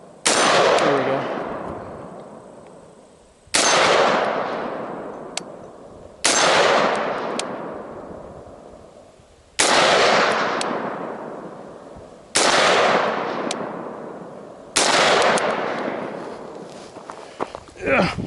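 Gunfire on an outdoor shooting course: six loud single shots spaced a few seconds apart, each with a long ringing echo that fades before the next, with faint speech between.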